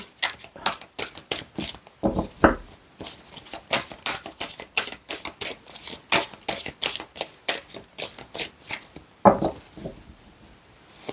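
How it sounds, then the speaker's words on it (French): Oracle cards are riffled and shuffled by hand at close range, a rapid run of crisp papery slaps and flutters in irregular bursts with brief pauses, and no talking over it. "Je remélange bien parce que ça fait longtemps que j'ai pas utilisé cet oracle"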